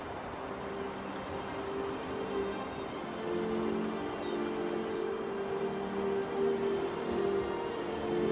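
Steady rain in the video game Enderal patters continuously and slightly grows in intensity, with a faint low hum beneath it and no speech.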